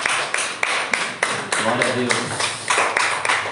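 Church congregation clapping in praise at the close of a Sunday family service, a steady rhythm of claps repeating beneath a voice speaking loudly over them.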